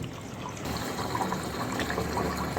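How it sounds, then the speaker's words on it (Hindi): Water gushes steadily from a pond outlet in a mountain village after a blockage of fallen tree blossoms clears, making a close, continuous splashing rush with no voices. "तो अब जाकर यहाँ से पानी जाने लगा है।"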